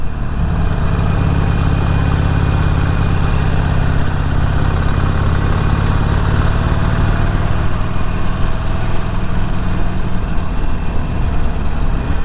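A motorcycle engine drones steadily and loudly throughout a canyon ride, a constant mid-pitched hum that holds nearly level for the whole stretch.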